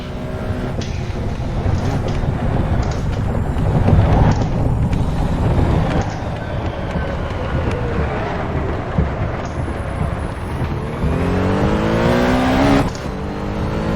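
A Porsche 917K race car roars around Le Mans in Assetto Corsa, its engine loud and sustained with rising revs and gear changes, wind rush filling the background, no voices.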